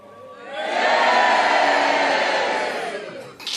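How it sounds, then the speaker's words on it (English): Radio studio audience on a BBC Radio 2 comedy show lets out a sustained, loud crowd roar that swells and holds for about three seconds before fading, with no clear speech. "Did you hear those awful people booing?"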